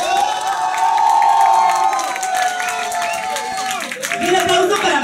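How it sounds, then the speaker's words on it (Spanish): Loud crowd applause and cheering with whoops for a contestant at a drag diva show, sustained and continuous, with voices shouting over the clapping. "Y necesito el aplauso nuevamente para la señorita Valentina Manson."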